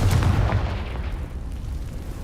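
A Confringo blasting spell explodes in Hogwarts Legacy, a loud close boom with a rumbling low-end burst that decays into a lingering roar.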